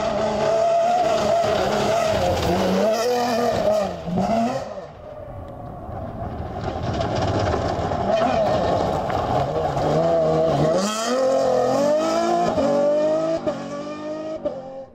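A Fouquet off-road rally car races at an off-road rally in the Arzacq hills, its engine revving hard and rising and falling through gears, then easing off before roaring back, with skidding on loose ground.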